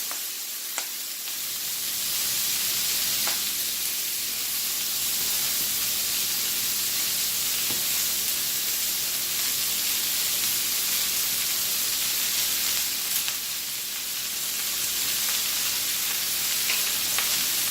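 Collard greens sizzling and popping in a hot pan, a loud steady frying hiss with occasional sharp pops throughout, no talking.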